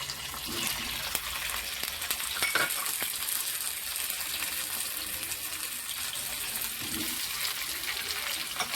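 Cucumber pieces stir-frying in a hot pan of tempering, a steady loud sizzle with occasional scrapes and clinks of the spoon throughout, no voices.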